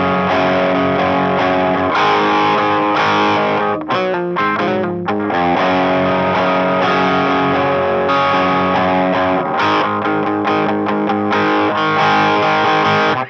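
Electric guitar played through heavy distortion on a song, loud sustained power chords with a brief choppy rhythmic break in the middle, continuous and alone without talk.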